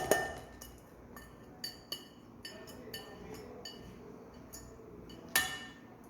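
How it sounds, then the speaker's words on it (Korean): Light glassy clinks and small clatters sound as a cup of rice is measured and added for a soybean sprout rice dish, a sparse run of close, crisp taps with one sharper knock near the end. "그래서 이렇게 쌀은 한 컵을 넣어주세요"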